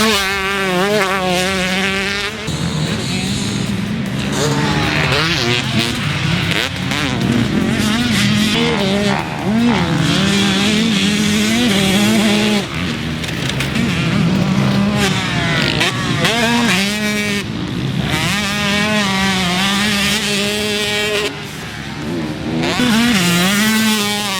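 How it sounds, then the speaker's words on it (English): A Pro Circuit-built Husqvarna TC125 two-stroke motocross bike rides past on a track, its high-pitched, buzzing engine revving up and down repeatedly through gear changes, loud and close, with brief drops between passes. "this Pro Circuit built TC125"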